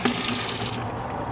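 Water runs from the faucet into the kitchen sink of a 2023 Heritage Glen 370BL RV, a bright steady splashing hiss that cuts off abruptly near the end, leaving a quiet room.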